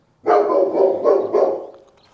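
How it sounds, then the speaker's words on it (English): Yeti the dog lets out a close, loud burst of four quick barks in a row, tapering into a softer trailing whine. "There's no need to bark."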